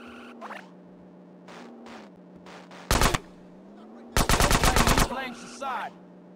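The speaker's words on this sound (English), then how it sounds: "I'm about to just try to shoot my way out of this." Gunfire in the video game GTA San Andreas Definitive Edition: a short loud burst near the three-second mark, then a longer rapid automatic volley, with quieter game sounds and brief voice-like bits in between.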